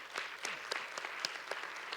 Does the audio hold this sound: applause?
yes